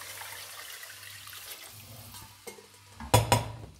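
Tap water, one and a half litres, pours into a hot pot of sautéed vegetables on a stove at full heat, a short hissing splash that swells sharply near the end.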